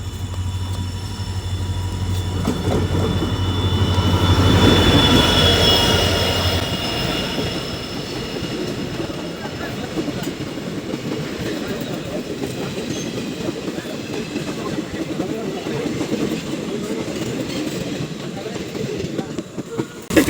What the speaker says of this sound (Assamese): তো গাইজ আমাৰ ট্ৰেইন আহি গৈছে